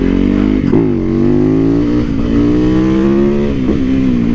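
A motorcycle revs hard while riding, its loud engine drone rising and falling in pitch with a few quick gear-change dips, close and continuous with no talk.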